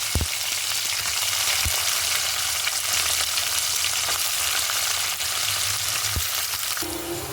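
Onions and green chillies frying in a pan for a brinjal curry, a steady loud crackling sizzle throughout with a few soft knocks of a spoon; no talk.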